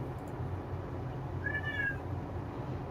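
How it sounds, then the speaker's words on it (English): A cat gives a single short meow picked up by an open microphone during an online call, faint against a steady background hum. "Who's got a cat?"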